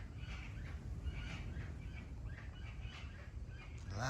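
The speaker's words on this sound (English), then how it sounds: "This bird just woke me way up." Loud bird calls out in the Colombian countryside, a series of harsh, honking cries repeating at irregular intervals over a steady outdoor rumble.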